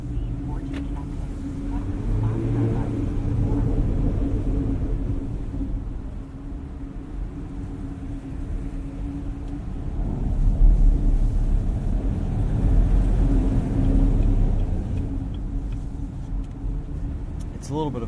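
A 2018 Chevrolet Camaro 2SS with a six-speed manual cruises at night with the windows rolled down, a steady low engine drone mixed with road and wind rush that swells slightly midway.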